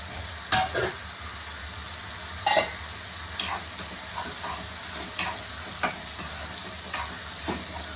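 Onions fry and brown in a pan with a soft, continuous sizzle, broken by occasional louder scrapes and clinks of a spoon stirring against the metal.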